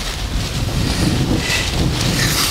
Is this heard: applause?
no